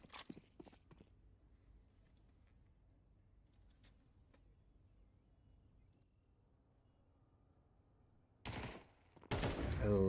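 Gunfire from a Counter-Strike 2 esports playoff match, with a few quick shots near the start, a quiet stretch, then two loud, dense bursts of shooting close together near the end.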